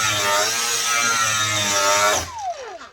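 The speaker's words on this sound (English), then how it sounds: "For fiberglass, you can see this is just a wore out 120 grit flap disc." An angle grinder fitted with a worn 120 grit flap disc sands fiberglass with a loud, close, high whine. It cuts off sharply and spins down to a falling tone.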